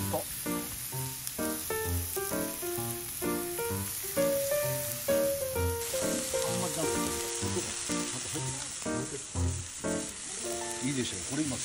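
Meat seasoned with salt and garlic salt frying on a hot pan at a winter campsite, a loud, steady close sizzle with continuous crackling pops throughout.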